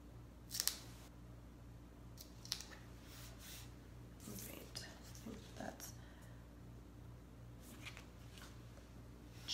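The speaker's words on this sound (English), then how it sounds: "I'm going to cut this because it was coming onto my cookies." Scissors cut a chalk transfer with a few quiet, crisp snips and rustles, spaced irregularly over a faint steady hum.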